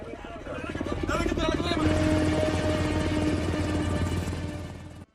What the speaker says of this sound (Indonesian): Beberapa helikopter mengepung Scotchy.